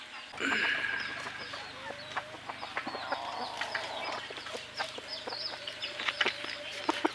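A talisayin-type labuyo junglefowl rooster gives soft clucking calls amid a busy outdoor chorus of other birds and chirps, steady and fairly close throughout.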